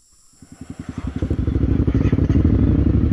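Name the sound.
motorcycle engine struggling up a steep dirt incline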